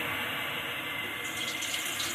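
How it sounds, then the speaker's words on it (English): Steady rushing splash of 2 cups of water pouring into a pan on an Indwell infrared camping stove, continuous and close, with a slight brightening toward the end. "Then we're going to pour the water."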